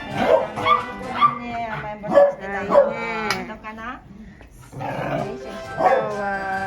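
Large dogs at a dog daycare bark, yip and whine in short bursts, close and lively, with a person talking over them throughout.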